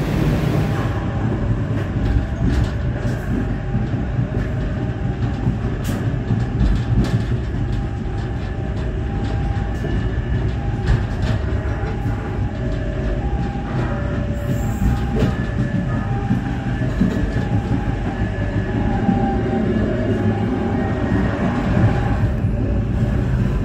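Menoreh economy passenger train running from Jakarta to Semarang, pulling into Bekasi station: a loud, steady rumble of rolling carriages with rhythmic wheel clatter and occasional squeal, continuous throughout without any talk.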